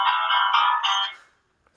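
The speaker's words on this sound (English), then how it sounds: "I got a phone call." Phone ringtone chiming in bright repeating bursts for about a second, then cutting off into silence.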